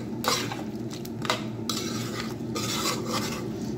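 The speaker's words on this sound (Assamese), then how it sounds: "দৈ লগত মচলাখিনি মিলি যোৱালৈকে আকৌ ভাজিম অলপ" Masala mixed with yogurt sizzles in a pan while a metal spoon scrapes and clatters against it in repeated stirring strokes, close and fairly loud.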